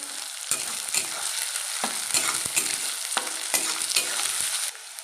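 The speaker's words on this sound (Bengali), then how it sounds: "পেঁয়াজগুলো দেখো হালকা করে ভাজা হয়ে গেছে। এবারে দিয়ে দেবো চেরা কাঁচা লঙ্কাগুলো।" Lightly fried onions and slit green chillies sizzle steadily in a pan while a spatula stirs in a series of sharp scraping bursts, close up and with no voices.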